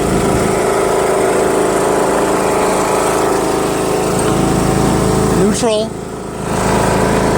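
A John Deere L100 lawn tractor engine runs steadily and loud at high throttle, a constant drone throughout, with a brief voice near the end.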